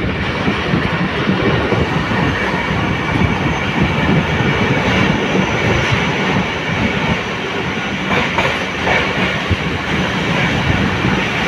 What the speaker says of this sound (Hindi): बड़ी ज़बरदस्त ट्रैक साउंड है।